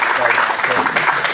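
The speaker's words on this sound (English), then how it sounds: "Another round of applause for our speakers." An audience at an AI builders meetup in San Diego applauds the speakers, a brief dense patter of clapping heard up close.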